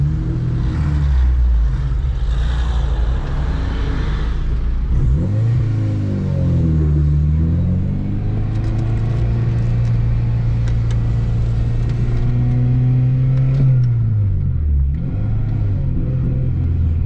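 A Honda Civic Type R EP3 engine revs hard on the Nürburgring track, the loud rising and falling engine note sweeping up through the gears with shifts and a drop near the end, constant and close throughout.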